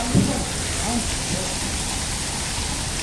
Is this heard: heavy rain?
yes